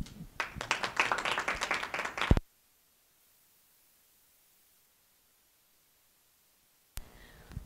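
Audience claps for about two seconds, a dense close burst of applause that cuts off sharply into silence, followed by a brief faint noise near the end.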